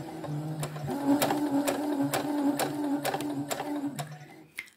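Sewing machine stitching an in-seam pocket seam with French seams, a steady close motor whir running through most of the clip with repeated needle clicks, stopping near the end.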